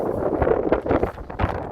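Steady wind buffeting the microphone, a low rumbling roar with gusty surges throughout, no voices.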